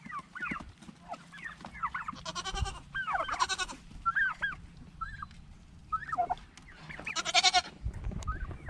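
Several goats bleat loudly and repeatedly in strained, overlapping calls while being fed goat milk, with turkeys gobbling and clucking among them on a farm; cries come in bursts over a low steady background.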